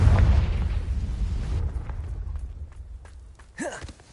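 Spell explosion in a Hogwarts video game, a heavy rumbling boom that decays over a couple of seconds, followed by a short whooshing magical burst near the end.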